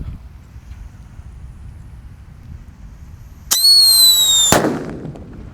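Quiet outdoor hiss, then a sudden shrill whistling screech for about a second ending in a single sharp, loud bang from a Black Buster firecracker that fades out.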